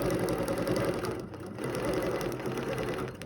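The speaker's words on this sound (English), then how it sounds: "I'm just going to stitch up," Domestic sewing machine stitching a quilt design, running steadily with a fast mechanical whir and rhythmic needle thump, close and fairly loud, with a brief dip in the middle before the stitching resumes.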